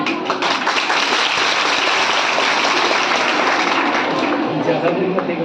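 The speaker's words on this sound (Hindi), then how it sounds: "तालियां इस लड़की के लिए" An audience at a girls' awareness programme gives sustained, dense applause that stays loud and even throughout, with voices mixed into the clapping.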